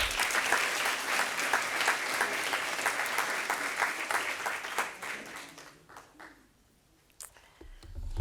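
Library audience applauding to welcome author Anita Abriel at a local author lecture, steady clapping for about five seconds before fading out into quiet room sound.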